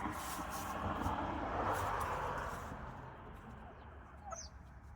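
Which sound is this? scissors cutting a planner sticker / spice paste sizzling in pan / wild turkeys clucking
wild turkeys clucking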